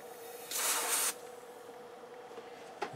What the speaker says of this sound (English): Let me see if I can get some cold spray on this.